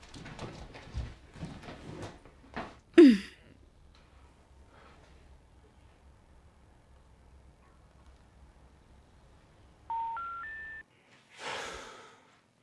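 A phone call is placed: a short run of rising keypad tones after a quiet stretch, followed by a brief rustle, with faint movement and breathing earlier and no speech.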